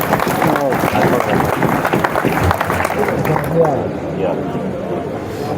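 Crowd applause at a pigeon-racing prize-giving in a Pakistani village: dense, steady clapping heard close, under a loud announcer's voice, fading somewhat toward the end.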